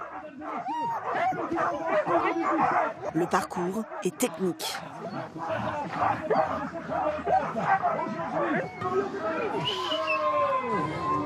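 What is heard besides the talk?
sled dogs barking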